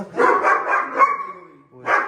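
A bully dog barks in a quick run of four or five loud, close barks with a short whine trailing off, then one more bark after a brief pause.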